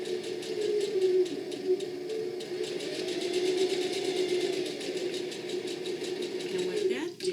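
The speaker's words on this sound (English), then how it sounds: "I'm just going to sew it on." A sewing machine runs steadily, tacking fabric along the very edge of a Lillyanne bag, a continuous mid-pitched motor drone with a rapid needle chatter that holds for several seconds before easing off.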